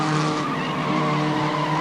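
Production touring cars in a 1988 race at Amaroo Park, including a turbo Commodore-engined car, roar past with loud, sustained engine drone and tire noise, close and continuous without any talking.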